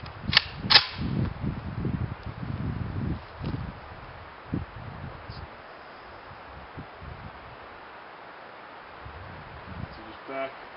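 Rifle shots ring out outdoors, two sharp loud cracks close together near the start followed by a fainter shot, with rustling and breezy background noise and some low voice-like murmur.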